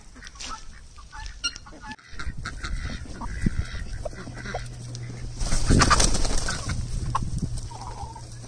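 Hungry geese and ducks honk and gobble near the microphone, a loud cluster of overlapping calls building to a dense burst midway through and continuing steadily to the end.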